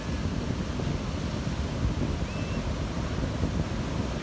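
Wind and surf roar together at a beach in a steady broadband wash, with no clear individual wave breaks and no talking.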